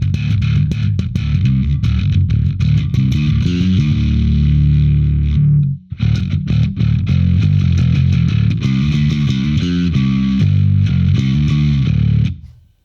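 Bass guitar played through a Blackstar Unity 700 amp with heavy distortion, loud gritty sustained notes and riffs with a brief break midway, then resuming until a sudden cutoff.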